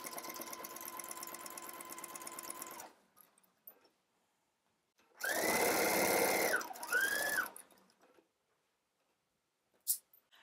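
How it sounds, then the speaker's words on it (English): A sewing machine stitches a 5/8-inch skirt seam in steady bursts: a long continuous run, then after a pause a louder, closer run that stops and restarts, ending with a short sharp click. "we're gonna go sew this at 5/8 of an inch"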